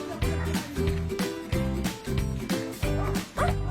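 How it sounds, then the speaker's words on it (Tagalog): Dogs bark in steady, loud repeated bursts roughly every half second near Tungtong Falls, sharp yips layered over the rhythm with a voice faintly underneath. "At ayun na mga aso to"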